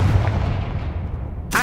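A Confringo spell blast in the Hogwarts Legacy video game: a loud, sustained booming rumble like artillery fire rolls on and fades slightly, with a short fresh burst right at the end.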